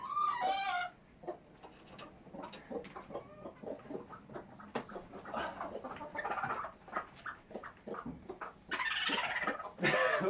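A broody backyard hen clucks and grumbles continuously up close, with a run of sharp, rapid clucks and squawks, and other chickens murmuring in the background.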